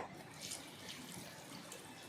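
Water is poured into a pot of mutton breast-bone soup with curry leaves, giving a faint, steady splashing gush up close.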